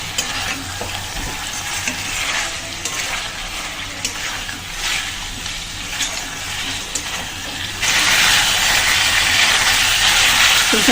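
Water poured into a pan of frying egg and potato curry with spices, a steady broadband hiss and sizzle that swells louder and brighter toward the end as the liquid hits the hot pan.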